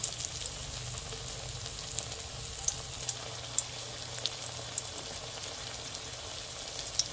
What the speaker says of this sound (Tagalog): meron na po kami nakasalang na tortang talong at piniprito